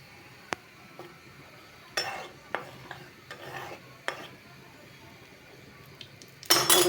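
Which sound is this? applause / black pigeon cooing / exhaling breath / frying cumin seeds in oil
frying cumin seeds in oil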